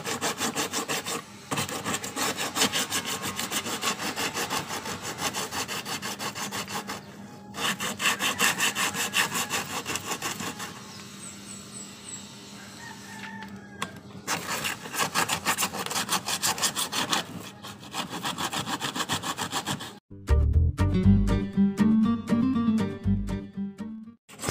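Coarse 36-grit sandpaper worked by hand over a fiberglass motorcycle cover, producing rapid rhythmic rasping strokes in long close bursts separated by short pauses, ending in a rougher, heavier scraping passage.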